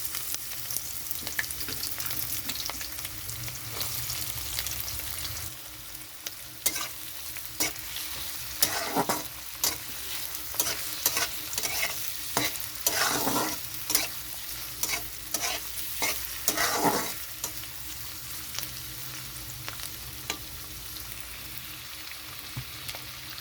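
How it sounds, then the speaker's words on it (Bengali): Chopped onion hits a pan where garlic is already frying for a spiced dried-fish dish, giving a steady close sizzle with repeated scraping stir strokes, loudest through the middle and end, no voices. "এখানে আমি দিয়ে দিচ্ছি কুচানো পেঁয়াজ"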